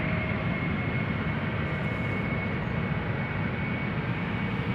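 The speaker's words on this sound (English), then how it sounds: "German Airways, Embraer 190, flying for KLM as KL Flight 1873 outbound to Stuttgart." An Embraer 190 jet on a KLM flight outbound from Schiphol, a steady, moderately distant engine rumble with a faint high whine, continuous and unaccompanied by speech.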